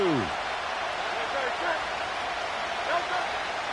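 An American football stadium crowd keeps up a steady roar of cheering during a game, filling the background while a commentator talks over it.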